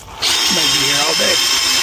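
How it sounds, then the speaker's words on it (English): A power drill bores holes during a home repair job, starting abruptly and running loud and steady with a shifting whine, while a voice speaks briefly over it. "So we got the holes drilled."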